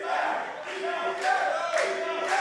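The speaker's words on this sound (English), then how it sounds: "Now the crowd here at Hebron getting behind Diaz as he catches himself in this submission" Pro wrestling crowd at a Hebron show cheering during a submission hold, loud chanting and shouting voices that swell in bursts, rising sharply around the middle and again at the end.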